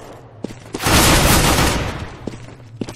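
Counter-Strike: Global Offensive gunfire: a loud, dense burst of rapid shots swells for about a second, with a few sharp isolated clicks and thuds before and after against a low hum.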